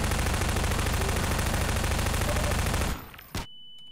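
Sustained rapid gunfire from a weapon in the Half-Life 2: Episode One game rattles loudly and continuously for about three seconds, then cuts off, followed by one last short burst and quiet.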